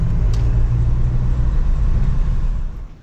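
A Land Rover Defender pulling a livestock trailer drives along the road with a steady, close, loud rumble of engine and road noise that fades toward the end.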